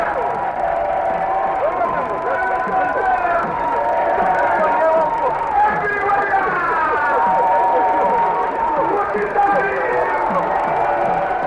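A dense, continuous crowd cheers and calls out with rising, wavering voices during a 1973 Zambian presidential procession led by traditional drummers. The crowd noise dominates throughout.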